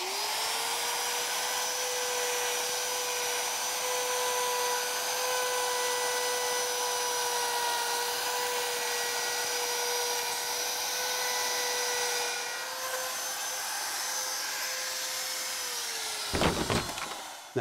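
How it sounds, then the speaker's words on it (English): Wood router cutting a star-shaped recess in wood along a template, a loud steady high-pitched whine sustained throughout, close by, dipping briefly near the end as the cut finishes. "So I'm going to go ahead and router this out."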